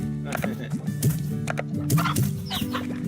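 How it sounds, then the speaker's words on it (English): Chickens in the video game Slime Rancher cluck in short repeated bursts, fairly close, while people talk over them. "There's another chicken."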